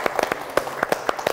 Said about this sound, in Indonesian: Tepuk tangan untuk Yogyakarta yang tercinta.